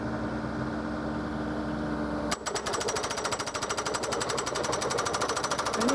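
A hydraulic hammer on a Geoprobe soil sampling rig, used for MC5 soil sampling, starts up partway through and pounds a soil probe into the ground in a rapid, steady, loud hammering rhythm close by, after a steady engine hum.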